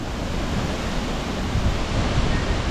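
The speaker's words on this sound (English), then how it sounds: "Pretty good gust, not a real big one right there" A wind gust during Hurricane Francine, a dense, steady roar of rushing air that builds slightly stronger in the second half, loud and close with no talk.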